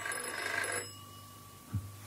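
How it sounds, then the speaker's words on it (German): A telephone rings briefly and fairly faintly at the start, its bell tone fading within a second over a low background hum, followed by a soft thud. "Telefon."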